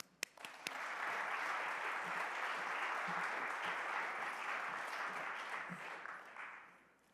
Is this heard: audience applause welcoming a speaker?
yes